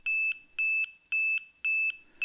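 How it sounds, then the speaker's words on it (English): Electronic alert alarm from a Blighter E-Scan ground surveillance radar, triggered when a vehicle enters a monitored zone: a clean, steady series of paired high beeps repeating about twice a second, loud and isolated. "as a vehicle enters the zone, it changes colour and an audible alarm is triggered to alert the operator"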